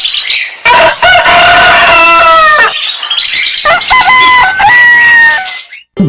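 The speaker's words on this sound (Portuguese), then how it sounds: "O galo mais famoso do Brasil volta a cantar" A rooster crows loudly and close by, two long drawn-out cock-a-doodle-doo calls with strained harmonic tones and a short break between them.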